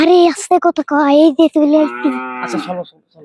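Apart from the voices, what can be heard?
cow mooing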